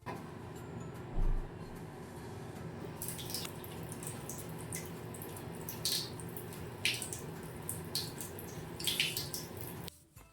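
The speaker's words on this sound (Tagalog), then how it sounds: "maghuhugas lang ako ng kamay bago tayo magsimula" Hands washed under a running tap before a head-to-toe health assessment: a steady stream of water with splashy bursts as the hands move through it, close and unbroken until it stops near the end.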